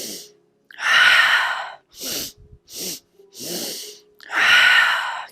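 Forceful rhythmic breathing in a yoga breath of joy exercise, with a series of loud, close inhales and exhales in short bursts, ending in one long breath.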